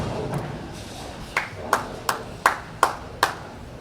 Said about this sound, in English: There's some loud clapping by the fans back here for the 6-bagger